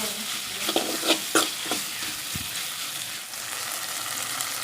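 Chicken gravy sautéing in a pan gives a steady close sizzle, broken by a run of sharp spoon-scraping stirs early on and then a softer, even frying hiss.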